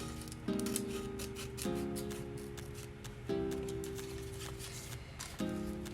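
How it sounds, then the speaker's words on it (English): Scissors cutting a thin slit in paper, several close, distinct snips in an uneven rhythm with short pauses between cuts. "wiggle my scissors in."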